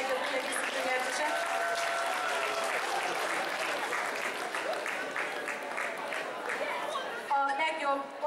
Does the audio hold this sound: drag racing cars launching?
no